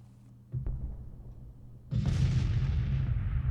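Civil War artillery guns fire in the In for the Kill strategy game with a muffled boom, followed by a louder, sustained roar of cannon fire nearby.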